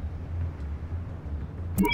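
A car engine hums steadily while driving behind in the Batman Telltale video game, a low rumble under quiet ambience, ending in a short bright tonal blip near the end.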